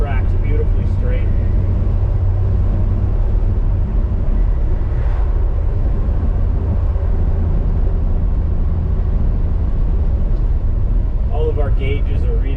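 A 1968 MG C GT cruises along with a steady, low engine drone and road rumble that stays loud and even throughout, with a faint hint of voice late on.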